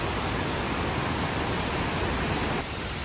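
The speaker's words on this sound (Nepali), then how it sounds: "यो झरना क्रस भएर जाँदैछौँ" A waterfall on a mountain trek roars close and loud as a steady, dense rush of falling water with no talking.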